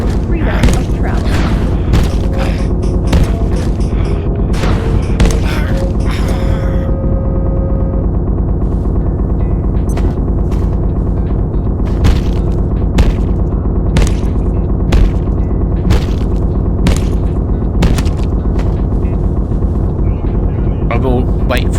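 Rapid gunfire and booming impacts in the video game Abiotic Factor, a dense, loud barrage of repeated sharp shots over a constant rumbling bed, with faint music buried underneath.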